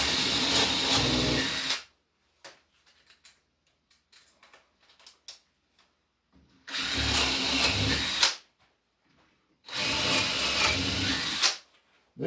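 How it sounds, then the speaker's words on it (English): Regular-length 15/16 drill bit boring deep into wood for a shaving horse, three loud close runs of drilling lasting about two seconds each, with quiet gaps and faint handling noises between. "This is just a regular length drill, and I'm just going in as far as it'll go in"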